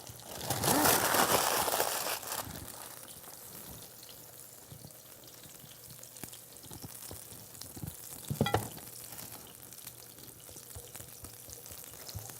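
Food laid into a hot pan bursts into a loud sizzle that then settles into a quieter, steady frying hiss, with a sharp clatter of utensil on pan near the end.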